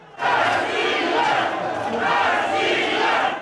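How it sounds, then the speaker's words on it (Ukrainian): A clamoring crowd storms a regional administration building, a dense, loud roar of many shouting voices that swells suddenly and holds steady throughout. "юрба з галасом пробивається на територію ОДА"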